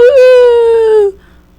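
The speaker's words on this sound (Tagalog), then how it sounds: "Pero may aso pa din tumatawag." A single loud, sustained dog howl from a video game, steady in pitch and slightly falling, lasting about a second before cutting off sharply.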